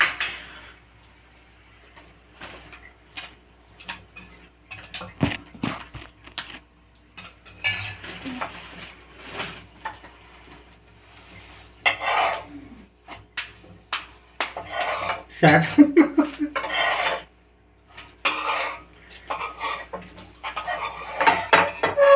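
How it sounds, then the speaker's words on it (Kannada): Eggs are cracked and beaten in a bowl for an omelette at home: irregular clinks and quick scraping taps of a utensil against the dish, close by, with bursts of rapid whisking between quieter pauses. "ಏ ಎಲ್ಲ ಮೊಟ್ಟೆ ಹೊಡ್ದಾಕ್ತಿದ್ದೀರಾ?"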